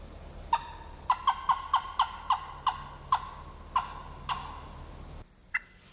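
A wild turkey gobbling during turkey hunting in Ontario: about ten sharp, evenly spaced calls ring out clearly over quiet outdoor background, then a single fainter call follows after a pause.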